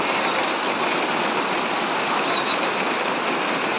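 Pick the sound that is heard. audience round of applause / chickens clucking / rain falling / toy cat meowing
rain falling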